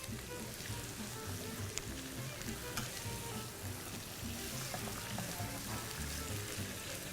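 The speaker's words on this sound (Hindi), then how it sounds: "लौकी को भूनना बहुत ही ज़रूरी है।" Grated bottle gourd frying for halwa, a low, soft, continuous sizzle with faint stirring scrapes, heard at a quiet level.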